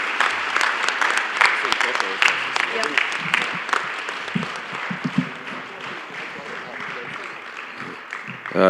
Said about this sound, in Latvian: Tā kā aplausi visām jums zālē un visiem jums zālē.